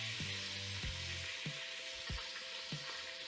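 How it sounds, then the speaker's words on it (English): Leeks sautéing in three tablespoons of butter in a Dutch oven for leek and potato soup, a steady close sizzle broken by several knocks of a stirring utensil against the pot. "I have 3 tablespoons of butter working here in my Dutch oven, and I'm just going to toss these leeks in."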